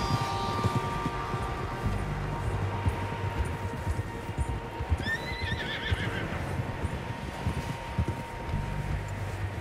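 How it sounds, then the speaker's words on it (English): Several horses whinny in Red Dead Redemption 2, with a clear neigh standing out midway over a steady bed of ambient noise and faint hoofbeats, no talk heard. "Horses, quite a few of them."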